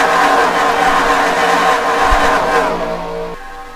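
Race cars in a Gatorade Pro Series race at Harrah's, passing at over 200 miles an hour with a loud, close roar that sweeps past, then drops away and fades.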